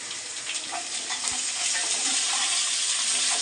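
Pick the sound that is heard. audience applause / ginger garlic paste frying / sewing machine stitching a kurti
ginger garlic paste frying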